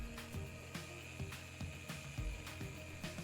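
A concrete polisher with a 100 grit resin diamond pad works a floor around a drain, giving a steady mechanical whine and hum with rhythmic grinding surges, close and continuous.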